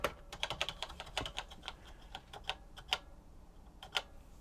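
Keys click on a repaired TRS-80 Color Computer 2 keyboard, including the W key and space bar, a close series of crisp, irregular taps in quick bursts followed by a pause and a few more presses, with no talking.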